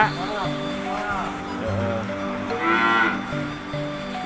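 Dairy cows on a village farm in Kampung Cikapundung give a drawn-out moo at moderate distance, with voices and outdoor ambience around them.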